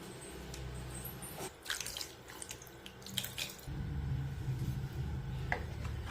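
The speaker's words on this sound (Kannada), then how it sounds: "ಇವಾಗ ಇದಕ್ಕೆ ನೀರು ಹಾಕೋಣ." Water running and splashing into a vessel of soaked tamarind mixture, soft trickling interrupted by a few clinks and dabs, then a fuller steady pour, fairly quiet and close.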